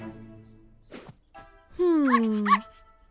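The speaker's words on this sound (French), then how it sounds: "Oh, un des chiots a suivi Buster dehors." Cartoon puppy barking on a farm: a few short yips followed by a longer, high whining bark with two quick yelps, close and loud, with a brief voice just before.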